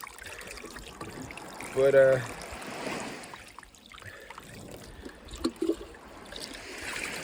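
Water trickles and splashes through a Keene sluice box loaded with Lake Superior beach sand, soft and close, with a few louder sloshes and a brief voice.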